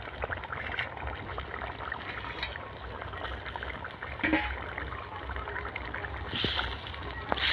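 Fried snakehead fish pieces go into a simmering tangy, spicy gravy, and a quiet, continuous bubbling and sloshing of liquid runs throughout.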